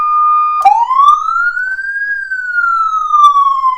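A loud Powercall DX5200 electronic siren holds a steady tone, then switches to a slow rising and falling wail, close and clear with nothing else audible.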